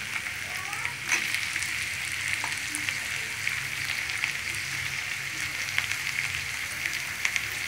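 Chopped tomatoes and capsicum fry in a pan for a spring roll stuffing, producing a loud, continuous sizzle with occasional crackles and scraping stirs close by.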